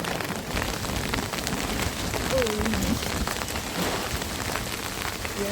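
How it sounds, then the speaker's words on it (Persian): Rain falls steadily in a storm, a constant hiss of drops hitting surfaces, with a brief faint voice-like tone partway through. "اوه بارون شد"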